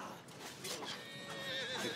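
A horse whinnies over a busy, noisy battle background, its wavering high call rising and falling for a couple of seconds.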